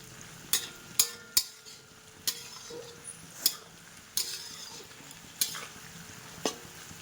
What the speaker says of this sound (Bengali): দেখতে পাচ্ছ সব কিছু ভাজা ভাজা হয়ে গিয়েছে।